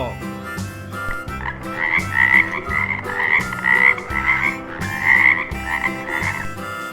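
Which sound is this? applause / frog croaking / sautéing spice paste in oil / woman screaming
frog croaking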